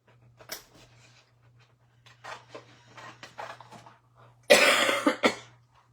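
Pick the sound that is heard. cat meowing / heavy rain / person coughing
person coughing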